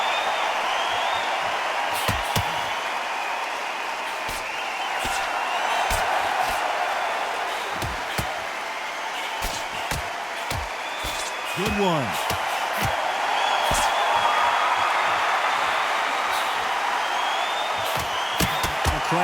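Arena crowd noise from the boxing game Undisputed, a steady roar of cheering and murmuring spectators that runs throughout, with commentary voices and a few sharp thuds over it.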